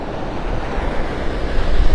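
Ocean waves breaking over the outer edge of a sandbar on a windy Gulf beach at Vanderbilt Beach, Naples, a loud low rumbling surf mixed with heavy wind buffeting the microphone, growing stronger toward the end.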